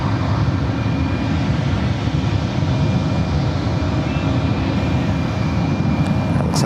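Porter Airlines Embraer E2 jet airliner at San Francisco International Airport, a steady, loud, broadband engine roar holding constant throughout, heard from outdoors.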